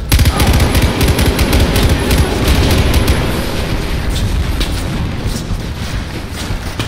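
Dense, loud gunfire from the video game Far Cry 4: rapid automatic bursts and booming shots pile up during the first few seconds, then ease into a thinner rumble of distant firing, with no talking.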